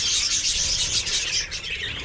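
A flock of parakeets chirps busily and continuously, bright overlapping tweets close by.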